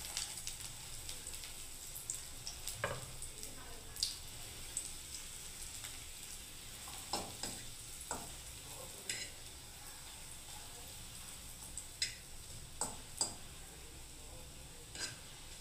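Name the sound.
bread slices frying in ghee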